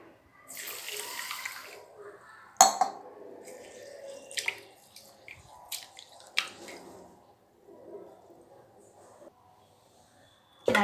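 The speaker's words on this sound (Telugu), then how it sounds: "ముందుగా మనం రైస్ అనేది వాష్ చేసేసుకుందాం" One cup of ordinary rice washed in water for chakkara pongali, with close splashing, swishing and dripping in uneven bursts, a few sharper knocks, and quieter gaps between.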